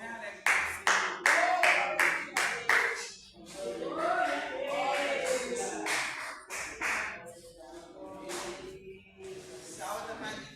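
Church congregation clapping together to welcome the Holy Supper, a burst of sharp, rhythmic claps at first, then a singing voice over a looser, softer patter of hands.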